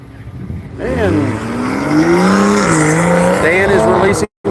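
Race cars are released onto the track at Nelson Ledges, engines revving hard and tyres squealing as they pull away, loud and close, with voices talking under the noise.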